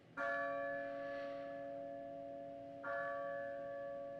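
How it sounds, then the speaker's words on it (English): Church bell tolling twice, each loud ringing strike decaying slowly with a long humming resonance before the next stroke, alone with no voices. "Bells tolled"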